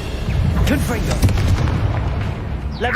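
Loud, close fire-blast spell explosions from Hogwarts Legacy, dense booming bursts and crackling debris filling the moment, with a spoken voice mixed in.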